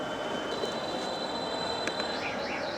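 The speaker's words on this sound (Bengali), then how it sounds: "এই যে ট্রেন আসছে" A train runs close by at a street food spot in Jhilpar, Dhaka. It gives a steady rolling rumble with high, thin wheel squeals over it that waver near the end.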